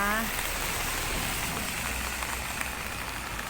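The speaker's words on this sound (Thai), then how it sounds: "ฝนตกแรงมาก" Heavy rain falling at an outdoor agricultural fair in Ko Chan district, Thailand, a dense steady hiss that fills the whole clip and stays close and loud.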